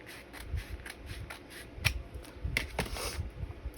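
Scissors snipping across paper for a handmade garden journal, a quick run of soft crisp cuts in an uneven rhythm, close and fairly quiet.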